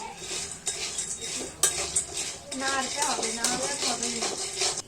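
Food is stirred in a metal pan with a utensil, giving close clattering scrapes and clinks in uneven bursts, with faint sizzling and a voice talking under part of it.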